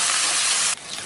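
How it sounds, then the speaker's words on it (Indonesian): Ground spice paste fries in hot oil in a wok, giving a loud, steady sizzling hiss that suddenly drops to a quieter crackle near the end. "tambahkan sedikit minyak. Setelah ini kita akan masukkan bumbu yang sudah tadi kita haluskan."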